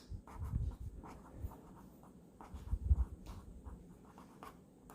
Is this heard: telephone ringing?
no